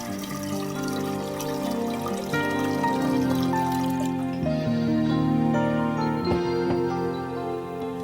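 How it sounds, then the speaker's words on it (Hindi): Water is poured into a pressure cooker in a kitchen, a close, steady trickle and splash that runs for several seconds under soft background music. "इसमें हम 3 से 4 कप पानी डालेंगे।"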